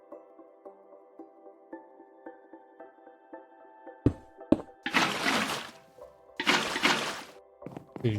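Water in the Minecraft video game rushes in two loud splashing bursts after a few thunks, following a stretch of quiet tonal game music.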